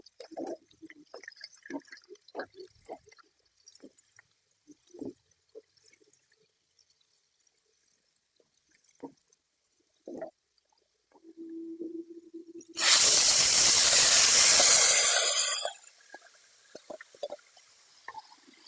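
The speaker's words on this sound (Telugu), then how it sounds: "ఇప్పుడు చింతపండు రసం పోస్తున్నా" Tamarind juice poured into a hot pan for drumstick pickle hits with a sudden loud sizzle lasting about three seconds, then fades, after quiet scattered kitchen clinks.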